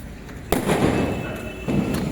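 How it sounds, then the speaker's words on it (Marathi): A lavangi bomb firecracker bursting outdoors during a Diwali night celebration, two loud thudding bangs with rumbling tails, the second about a second after the first, over crowd ambience. "काही हा लवांगी बॉम्ब लावतोय आता"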